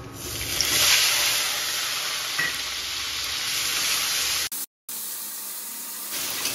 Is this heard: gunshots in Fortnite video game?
no